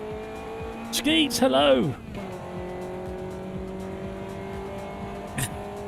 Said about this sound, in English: Warming up my tyres.